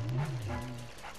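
Dog barking in the Luigi's Mansion video game, a short run of close, loud yelping barks with a pitched whine, lasting about a second.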